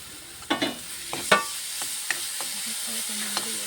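Crushed coconut being stirred into okra and egg thoran in a pan, with a few distinct spatula scrapes and taps over a faint sizzle, close and fairly quiet, no voices.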